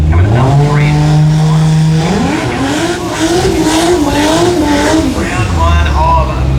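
A drag racing ute makes a solo pass at Willowbank Raceway, its engine droning loud and then climbing sharply in pitch through the run with tire noise, while a commentator talks over the top.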